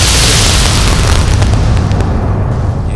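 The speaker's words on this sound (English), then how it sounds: "look at those explosions" Loud, continuous rumbling blasts with crackling bursts, a dense barrage of explosions in Fallout: New Vegas filling the whole stretch.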